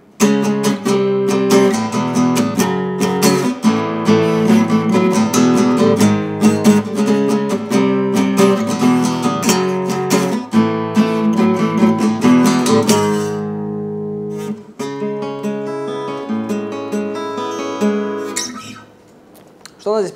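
An electric or acoustic guitar plays the chorus of a song using simple power chords, strummed in a steady driving rhythm for about thirteen seconds. It then thins to softer sustained chords, loud and close, with no voice over it.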